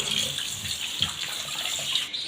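Pandhuni leaves being washed under a running tap, with a steady close stream of water splashing into a sink and small shifts and bursts as the leaves move through the flow.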